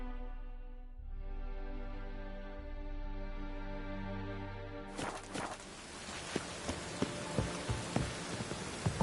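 Rain in The Witcher 3: Wild Hunt begins pattering close by after a low sustained hum, with scattered drops and light taps over a steady wash.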